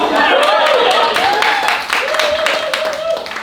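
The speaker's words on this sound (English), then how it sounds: "Thank you for your applause" A stand-up comedy audience claps and applauds steadily, the crowd noise continuing under a voice as he talks over it throughout.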